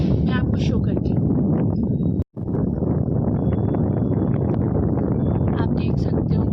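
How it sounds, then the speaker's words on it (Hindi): Loud, rumbling strong wind beside crop fields buffets the microphone almost continuously, with a brief drop-out midway and someone talking beneath it. "स्टिल बहुत तेज़ हवा चल रही है"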